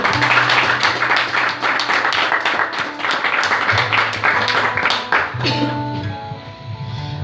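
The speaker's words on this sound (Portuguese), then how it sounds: "Pode aplaudir a palavra do Senhor" A church congregation claps together in dense, sustained applause inside a reverberant hall, with music chords sounding under it as the clapping thins out.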